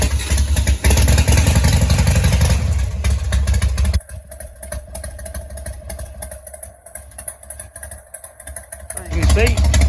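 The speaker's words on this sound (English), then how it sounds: "we're going to crack the throttle a bit." A Harley Davidson Evo motorcycle engine with a 32405-91 ignition module rumbles loudly, then drops to a quieter idle for several seconds before the throttle is cracked again near the end. Someone talks over the engine at times.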